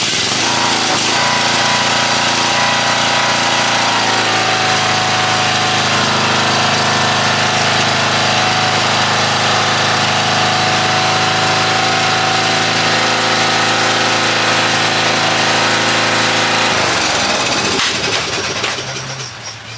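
A Yard Bug riding lawn tractor mower with a faulty choke runs on a squirt of starting fluid, its engine roaring loud and steady with a rough mechanical clatter close by for most of the stretch before cutting off.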